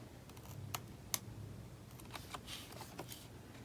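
Scissors snipping a strip of paper from a Happy Planner page, a few quiet crisp cuts and soft paper rustles, close and faint with no talking.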